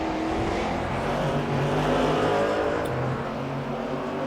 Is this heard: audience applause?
no